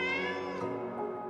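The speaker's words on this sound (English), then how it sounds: "in the center, she sees a little white cat" A little white cat gives a long, drawn-out meow with a rich harmonic tone, fairly close and steady, heard alone without talk in a haunted, dusty, cobwebbed hall.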